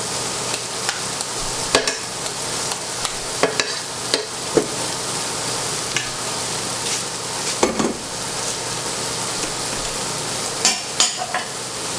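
Shrimp cook in a hot pan with chilies for tacos, a continuous close sizzle broken by repeated sharp knocks and scrapes of a utensil against the pan.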